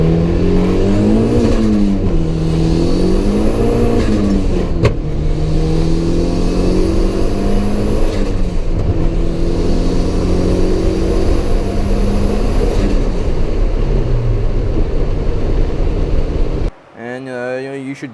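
A turbocharged car fitted with an eBay knockoff Tial 50mm blow-off valve, running about 20 psi, revs loudly and steadily with rising and falling engine tones, a sharp release burst midway, then a brief drop near the end.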